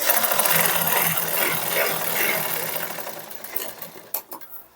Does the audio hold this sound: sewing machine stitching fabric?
yes